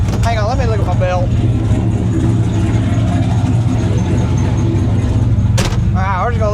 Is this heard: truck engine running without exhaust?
yes